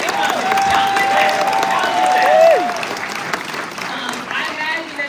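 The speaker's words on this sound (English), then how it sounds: "Okay, round of applause." An audience claps steadily at a TV show panel event, the applause fading slightly toward the end, with a voice speaking over it.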